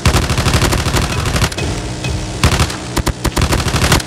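Rapid automatic gunfire in a video game shooter, loud close bursts of machine-gun fire with brief gaps and sharp isolated shots between volleys.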